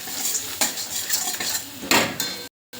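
Vagharelo rotlo, a tempered millet flatbread, stirred in a pan with turmeric, chilli, and coriander-cumin powder; a spoon scrapes in several rough strokes over a soft sizzle, close up, then cuts to silence.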